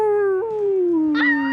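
A dog howls like a wolf on command, one long sustained howl that slides slowly downward in pitch, close and loud, with a brief rise near the end.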